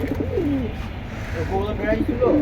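Military breed pigeons coo in soft, rolling phrases close by, several burbling calls rising and falling under a voice talking nearby.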